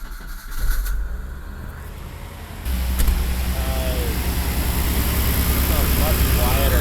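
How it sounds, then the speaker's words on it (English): A Jeep Comanche pickup fitted with a new alternator and water pump starts up and settles into a steady, close idle hum, with voices talking over it. "So now we're gonna fire her up."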